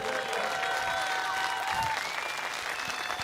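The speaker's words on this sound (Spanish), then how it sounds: "quiero que aplaudan bien fuerte" Sustained applause from a large outdoor festival audience in Río Gallegos, Argentina, after a show, steady and full throughout, with a few scattered voices in the crowd.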